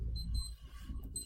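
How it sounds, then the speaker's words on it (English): A household alarm beeps in bright repeating electronic tones, a couple of quick bursts heard close and alone over a low hum. "That's the alarm to give a bath to my child."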